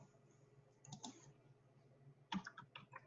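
Quiet keystrokes on a computer keyboard come in two short bursts of clicking, nearby and faint against a low background hum, while a search query is typed in.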